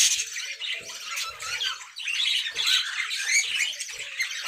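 A pet cockatiel or budgie gives repeated harsh squawks and chirps, close and fairly loud, in a series of bursts over several seconds with no talking.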